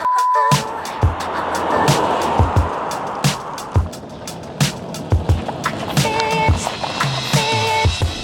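A 2024 Chery Tiggo 7 Pro rolls over a pothole and rough road, heard from inside the cabin as a string of sharp thuds and knocks over a steady road rumble, with a few faint chimes.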